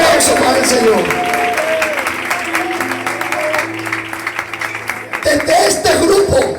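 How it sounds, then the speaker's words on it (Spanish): A church congregation in Villaverde applauds during an anniversary celebration, a broad steady wash of clapping that fills the room and continues under a voice speaking over it. "Fuerte ese aplauso para el Señor"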